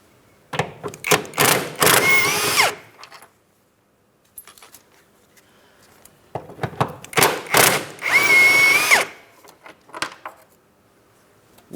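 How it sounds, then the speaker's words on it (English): A power tool such as an impact gun or drill runs on the passenger-side subframe bolts of a 2004-2008 Pontiac Grand Prix during rear forward lateral link replacement, in two separate loud bursts with quieter clicks and rattles of tools between them. "On the passenger side, let's fully remove our subframe bolts there as well."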